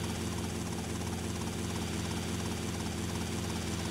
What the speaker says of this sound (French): Si avec ça, tu maîtrises pas l'hélicoptère